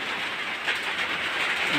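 Minced garlic sizzles in hot cooking oil over a low flame, giving a steady, close, continuous hiss and crackle with no talking.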